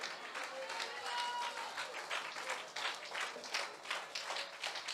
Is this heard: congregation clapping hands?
yes